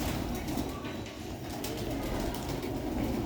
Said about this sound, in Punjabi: ਉਹਦਾ ਤਾਂ ਅੰਦਰੋਂ ਆਵਾਜ਼ ਆਉਂਦੀ ਨਾ ਕਬੂਤਰਾਂ ਦੀ